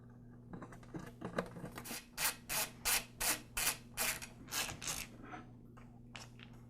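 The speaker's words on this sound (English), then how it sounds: "And secure it with the 4 screws." Four screws are driven in to secure a part inside a KitchenAid Pro 6 stand mixer during speed-sensor and control-board repair. A close series of rhythmic rasping, ratcheting strokes plays over a steady low hum.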